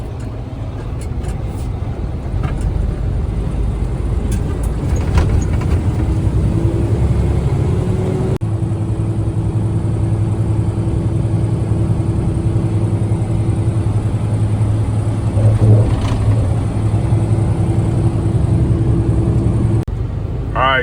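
Traffic of many trucks and cars at night, a steady low engine rumble with a sustained droning tone, heard close and continuous for about twenty seconds.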